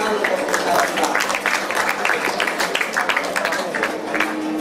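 A seminar audience at IPB applauds the speaker with a burst of scattered clapping that carries on steadily across the room, with voices mixed in.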